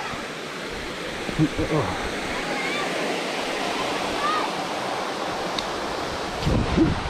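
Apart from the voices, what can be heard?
waterfall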